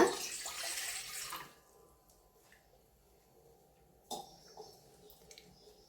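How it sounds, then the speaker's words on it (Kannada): A glass of water pours into a cooking pot as the first step of milk payasa. A short, bright rush of pouring runs for over a second, then near quiet follows, ending in a softer splash and trickle. "ನೀರು ಹಾಕೋಣ."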